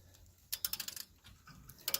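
A torque wrench clicks as it tightens the brake caliper bolts on the rear dually wheels of a Ford F350. A quick, close run of sharp clicks is followed by a brief pause, then another short burst.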